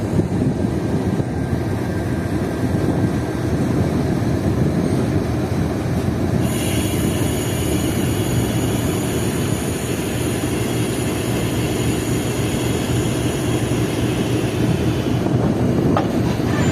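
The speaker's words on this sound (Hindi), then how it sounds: "एक बेहतरीन लोकोमोटिव पाकिस्तान रेलवेज़ का" A Pakistan Railways locomotive, a newly imported engine, hauls a train with a loud, steady rumble of wheels and running gear, and a high metallic squeal joins partway through and carries on to the end.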